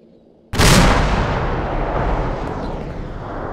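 A tank cannon fires once in a realistic military video game, a single loud close boom with a long rumbling decay that lingers for several seconds.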